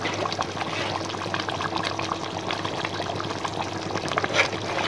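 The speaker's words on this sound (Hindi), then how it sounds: "अभी हम इस पॉइंट पे आके इसमें डालेंगे आधी प्याली दही की।" Half a cup of yogurt poured into Bombay chicken biryani cooking in a pot, a steady close wet pouring and sizzling hiss that continues throughout with small splutters.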